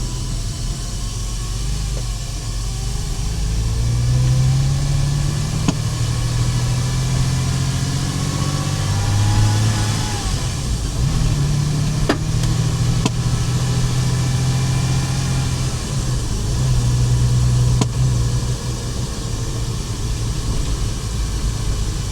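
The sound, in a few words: Porsche Boxster car engine while riding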